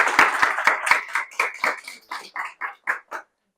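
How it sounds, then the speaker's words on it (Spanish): A seminar audience gives a short round of applause: a few sharp, loud claps at first, then a dozen or so spaced, thinning claps that slow and fade out to silence. "vamos a dar un aplauso aquí."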